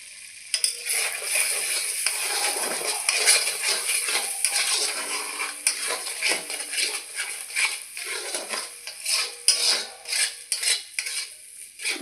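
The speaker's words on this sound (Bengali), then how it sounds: "এখন ভালো করে মিলিয়ে নিলাম।" Ground spices (turmeric, cumin, chili and coriander powder) stirred through oil in a pan for vegetarian matar paneer, with steady scraping and clinks of a spatula over a continuous sizzle, close and fairly loud.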